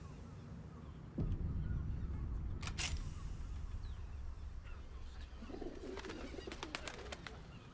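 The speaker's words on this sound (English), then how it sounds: "Birds." Birds coo and call in Baldur's Gate 3 amid a game soundscape; a rumbling ambient bed starts, then sharp clicks, and a cluster of warbling cooing calls rises near the end, moderately loud.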